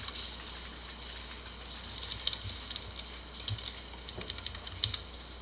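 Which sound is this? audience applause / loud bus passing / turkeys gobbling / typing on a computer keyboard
typing on a computer keyboard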